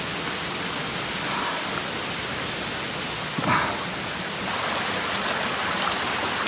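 The Grenjengan waterfall in Pacet, Mojokerto, gives a loud, steady broadband roar of falling water heard close by, with a brief thump partway through and the rush getting a little brighter near the end.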